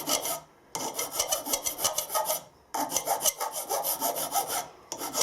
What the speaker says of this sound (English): I'll clean it up with a file